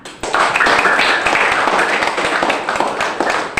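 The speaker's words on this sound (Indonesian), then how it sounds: "Tepuk tangan untuk kelas 6." A primary school sixth-grade class claps together in sustained, dense applause lasting several seconds, loud and close, with scattered individual claps standing out.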